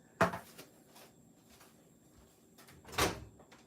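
Two short, sharp plastic pops as the lids of sprinkle containers are flipped open, about three seconds apart and close by, with a quiet gap between them.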